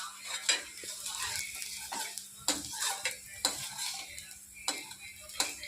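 Onions frying in a pan while a spatula stirs them, soft steady sizzle punctuated by regular scraping clinks of utensil against metal, close and unhurried, with no talking.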